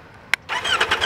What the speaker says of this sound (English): Let me make you hear the exhaust note, because that is what the major change is.